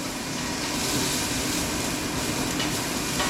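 Food frying in a little cooking oil in a home kitchen, a steady hissing sizzle that holds evenly and fairly close for a few seconds, with no speech over it.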